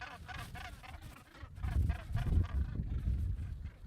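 A dense gannet colony on Helgoland calling together, many harsh honking cries overlapping into a continuous noisy chorus that grows louder toward the end.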